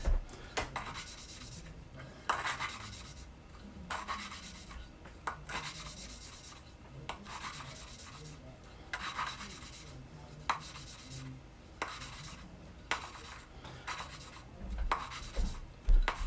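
Rhythmic gritty rubbing and grinding as engine valves on a 1950 MG are lapped with grinding paste, a close scraping stroke repeated roughly every second or two, with small clicks between strokes.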